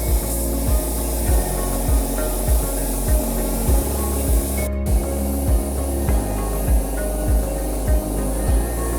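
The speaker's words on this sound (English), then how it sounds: "When spraying paint, make sure to apply it evenly so that every area is uniformly covered." A spray gun hisses steadily while red paint is applied evenly over a restored metal gate, with a regular low thumping pulse running underneath and one brief break partway through.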